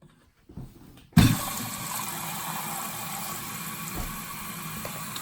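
Toilet tank refilling after the shutoff valve is turned back on, a sudden gush of water followed by a steady hissing fill that continues alone.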